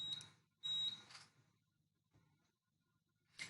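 A fire alarm panel gives faint, intermittent electronic beeps in short bursts, separated by quiet gaps, before the panel is silenced; no one speaks.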